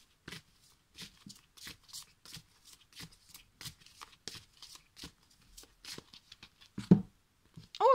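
A deck of oracle cards is shuffled by hand in quiet, regular riffling bursts, close and soft, with a brief voice near the end.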